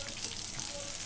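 Pieces of food fry in hot oil in a pan, giving a close, steady hiss and sizzle throughout.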